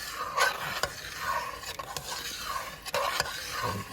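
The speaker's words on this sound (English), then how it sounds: "Kind of stir that in." A spoon stirs light red kidney beans into chili in a pot, with soft scraping sweeps and a few sharp clinks against the pot over a faint simmering sizzle.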